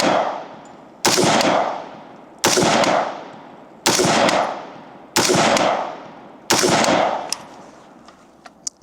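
Five sharp rifle shots from a PSA M16A4 service rifle fired from a sitting position, evenly spaced about 1.4 seconds apart, each loud and close with a long ringing decay, followed by a few faint clicks.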